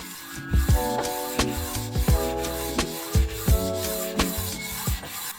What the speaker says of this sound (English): we do that by just going forward and backward with the whetstone.